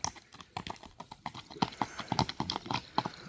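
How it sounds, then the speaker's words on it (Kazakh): A four-year-old horse walking calmly, hooves clip-clopping in a steady close rhythm of distinct knocks that grow slightly louder and quicker toward the end, with no voices. "мындай спокойный бастырып бер ат"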